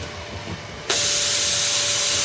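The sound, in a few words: compressed air pulsing media in ROV mucker display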